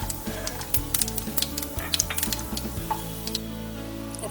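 Chana dal and urad dal sautéing in hot oil with popped mustard seeds for tamarind rice, a steady close sizzle with scattered crackles and spoon-stirring clicks throughout.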